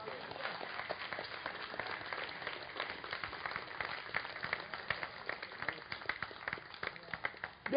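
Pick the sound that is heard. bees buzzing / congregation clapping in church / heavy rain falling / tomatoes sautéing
congregation clapping in church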